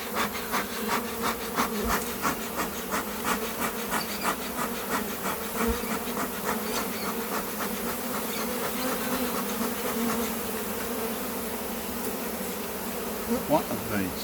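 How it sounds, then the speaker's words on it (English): Honey bees swarm and buzz around an open hive during an inspection, a dense steady drone sitting close to the microphone for the whole stretch, with faint rubbing and handling of hive woodwork underneath. "Trying to get these bees off the top."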